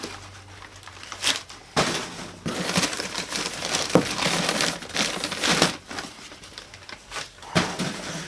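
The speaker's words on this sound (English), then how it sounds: "Get this paper out of the way." Packing paper inside the shipping box of a Nexa FW-190 ARF model plane is crumpled and pulled out, giving bursts of crinkling and rustling close by, with no one talking.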